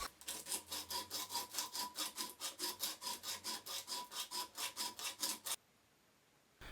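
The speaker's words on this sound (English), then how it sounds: "I'll use a piece of sandpaper to get things to more or less the right diameter." A small wooden piece being rubbed with sandpaper by hand to bring it down to diameter, a brisk run of about two dozen even rasping strokes, close and steady, then stopping abruptly into near silence.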